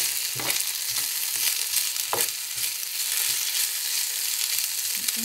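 Potatoes frying in oil in a pan, giving a steady bright sizzle with a few soft clinks and stirring scrapes from the pan, close and moderately quiet, with no talking.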